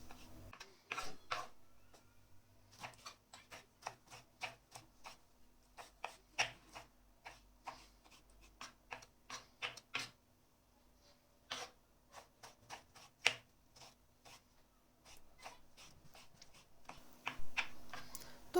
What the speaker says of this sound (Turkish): Soyduktan sonra bu şekilde küp küp doğruyorum.